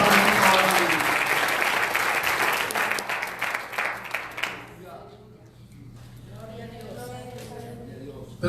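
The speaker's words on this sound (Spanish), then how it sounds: "Un aplauso, Señor." Congregation applauding in a church service, loud sustained clapping from a crowd that fades after about five seconds, followed by someone speaking.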